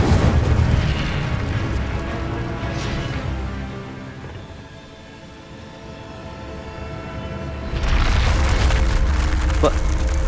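Incendio fire spell cast in the video game Hogwarts Legacy, a loud roaring burst of flame that fades to a low rumble midway, then surges back powerfully near the end.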